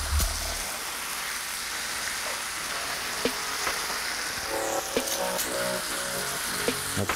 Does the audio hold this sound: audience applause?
no